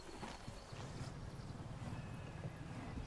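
A horse walking outdoors, hooves clip-clopping in a steady uneven rhythm at moderate distance, with wind noise over the microphone and no voices.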